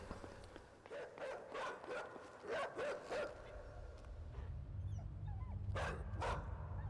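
A dog in the video game Inside gives several short yips and whimpering barks in the first few seconds, fairly close, over a low ambient rumble that continues alone afterward.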